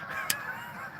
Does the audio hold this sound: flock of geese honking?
yes